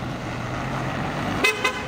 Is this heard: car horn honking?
yes